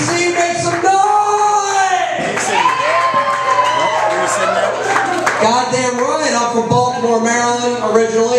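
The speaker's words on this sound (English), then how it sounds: "Big round of applause for Ralph Cooper, everybody" A comedy club crowd cheers, whoops and claps for Ralph Cooper, loud and continuous, with shouted voices and a speaker's voice running over the noise.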